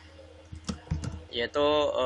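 A few quick key presses on a computer keyboard, entering a shortcut during an AutoCAD drawing lesson, sound as close, sharp clicks, followed by someone speaking.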